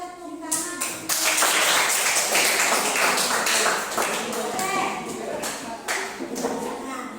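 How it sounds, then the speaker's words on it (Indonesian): Students clapping their hands in a classroom: a dense, sustained burst of close clapping that runs for several seconds, with brief voices at the start. "Oke, kita tepuk tangan."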